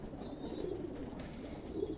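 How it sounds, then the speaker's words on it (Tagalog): Pigeons in a fancier's loft cooing softly, low rolling coos repeating steadily, fairly faint and near, with faint background noise. "Ito yung pinapakain natin mga kalapatid."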